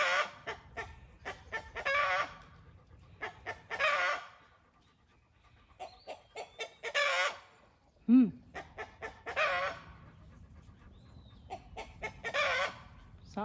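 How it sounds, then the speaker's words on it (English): A barred rock rooster crows and calls in short bursts, with clucking and bird chatter around it, fairly close and repeating every couple of seconds. "Oh, it's my barred rock rooster."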